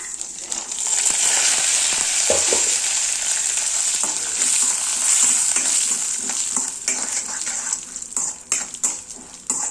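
Mustard seeds, chana dal, cashews and curry leaves temper in hot oil for coriander rice, giving a loud, steady sizzle with stirring scrapes and occasional utensil knocks throughout.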